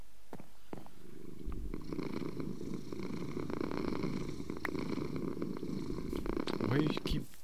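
Steady purring from a cat in the Minecraft 1.20.4 survival game runs throughout, close and continuous, with someone talking over it.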